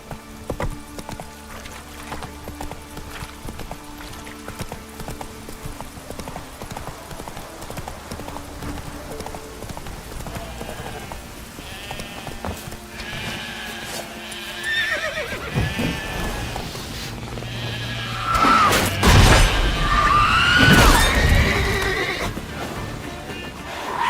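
Roach, a horse in the video game The Witcher 3, gallops with steady clip-clop hoofbeats throughout, then lets out loud, close whinnies and neighs near the end over game ambience.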